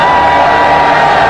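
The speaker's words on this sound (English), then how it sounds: "There's that wonderful crowd out there, full of spirit, fun," Cricket stadium crowd at a PSL match roaring and cheering in a dense, continuous wash of voices and whoops, loud and sustained with no pauses.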